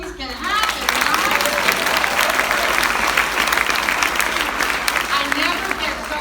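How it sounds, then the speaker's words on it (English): An audience at a wine and book-reading event breaks into loud, sustained applause, full and close, with some voices mixed into the clapping. "I never get so much applause as for being old."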